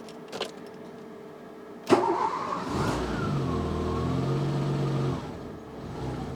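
A Renault 25 V6 Turbo engine catches with a sharp onset, surges briefly, then settles into a steady, close idle that drops away near the end, with a faint fan whir underneath.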